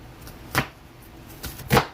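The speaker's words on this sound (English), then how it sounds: "Next guys is chopping my onion." A knife chops an onion on a board, a few separate sharp knocks at uneven intervals, close and fairly quiet, with no talking.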